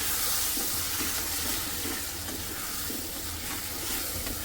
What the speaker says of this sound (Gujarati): હવે એમાં નાખી લઈશું આપણે દહીં થોડું દહીં નાખી લીધું